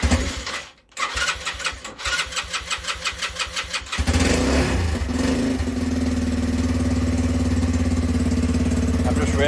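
A Lexmoto Street motorcycle cranks with a rapid rhythmic starter churn for a few seconds, then catches and settles into a steady, loud, close idle.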